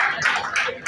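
Hand clapping, a few quick sharp claps close by in a room, brief and bright with faint voices around.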